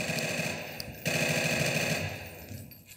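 Rapid automatic fire from an H&K G3 rifle in the Insurgency video game, a loud close stream of shots running in bursts with a short gap near the middle, then trailing off toward the end.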